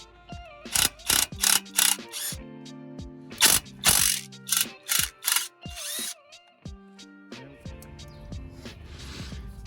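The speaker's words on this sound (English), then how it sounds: "I've got the 18mm bit in the gun. We're just going to use that on there." Powered impact gun with an 18mm socket undoing a drive shaft bolt on a Vauxhall Corsa D: a series of sharp, loud ratcheting bursts in an irregular rhythm, separated by the motor's tonal whir spinning up and down.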